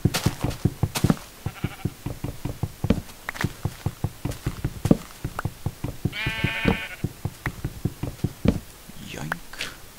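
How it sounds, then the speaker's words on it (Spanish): Sheep in the Minecraft video game let out a clear, wavering bleat midway, with a fainter second bleat near the end, over a steady run of quick footstep-like taps and clicks. "Ovejas, esto sí que me servirá"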